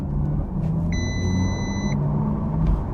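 Low, steady rumbling drone inside the cabin of a 2023 Audi RS e-tron GT electric car accelerating hard in dynamic mode, with a brief high electronic tone in the middle and no talking.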